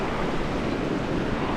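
Arkansas River in Colorado rushing past, a dense, continuous roar of flowing water heard up close, steady and unbroken, with no talking.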